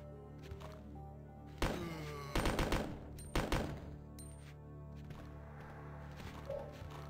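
In Resident Evil 2 on PlayStation, two bursts of rapid gunfire crack out over a steady electronic hum, each a quick cluster of sharp shots, with a few faint blips between.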